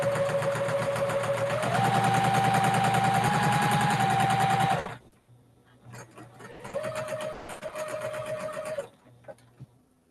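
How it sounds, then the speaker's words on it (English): A quilter's sewing machine runs steadily with a fast rhythmic whir, stops, then starts again more quietly for a couple of seconds before falling silent. "Is my sewing machine too loud, Gladys?"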